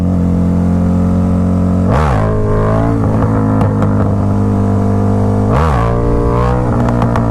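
A motorcycle engine idles steadily and loudly up close, then revs sharply twice in quick blips during clutch-up wheelie practice, with the harmonic tone of each rev sweeping up and back down.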